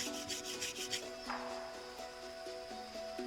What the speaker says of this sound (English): That's bits of this slate abrading off.